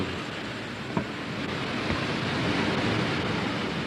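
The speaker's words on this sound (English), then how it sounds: "or more miles an hour blowing by." Steady roaring hurricane wind with gusts of 100 mph or more rushing past the microphone, broad and loud throughout, with a few buffeting thumps, in Fort Lauderdale before Hurricane Andrew, 1992.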